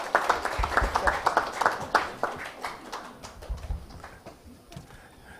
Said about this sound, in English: Please welcome him with your round of claps.